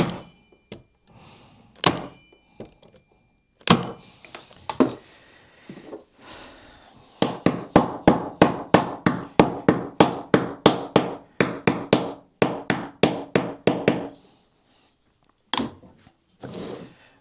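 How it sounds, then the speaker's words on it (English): Nails are hammered into the top of a wooden National beehive frame with sharp, close taps, a few scattered early on, then a rapid, steady run of strikes before slowing to a few last blows. "so that is now all of those nailed in the top"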